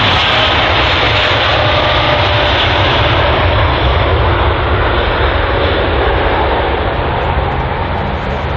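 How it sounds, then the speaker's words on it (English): A Boeing 777 cargo jet passes overhead at London Heathrow. Its engines make a loud, continuous, broadband roar that holds steady throughout and only slowly fades toward the end. "just in the air there is the Boeing 777. It's a cargo aircraft"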